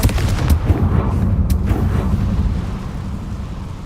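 A Confringo fire spell blasts in Hogwarts Legacy, several loud, sharp explosive bursts early on followed by a deep rumbling roar that slowly fades, with no speech.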